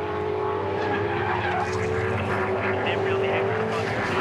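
A V8 Supercar at the 2007 Phillip Island race goes off the track, giving a continuous loud engine roar mixed with the rough scrub of skidding tires, sustained throughout.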